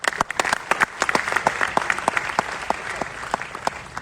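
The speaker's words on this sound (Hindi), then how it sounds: "एक जोरदार तालियां बनती हैं रोशन की स्पीच के लिए" Audience applause after a speech by co-founder Roshan: sparse, distinct handclaps from a modest crowd, fairly soft and steady for several seconds with no talk over it.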